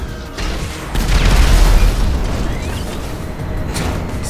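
A deep boom from a GTA Online orbital cannon strike rolls out for several seconds, loud and close, with dense low rumble and a crackling blast tail, with no talking.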